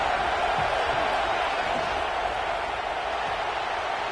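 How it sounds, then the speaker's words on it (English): Football stadium crowd at a Baylor versus Texas A&M college game, a steady dense roar of cheering and noise building before a second-down play, loud and continuous throughout. "this crowd is turning it up a notch"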